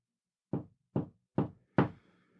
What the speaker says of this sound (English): distinct knocking from the walls of her bedroom. Kind of like this.